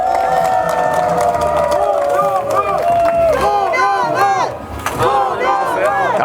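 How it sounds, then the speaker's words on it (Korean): A crowd at an outdoor election campaign rally in a Gwangju market cheers and shouts loudly, with voices rising and falling and some scattered clapping mixed into the noisy din. "뜨거운 박수 부탁드리겠습니다"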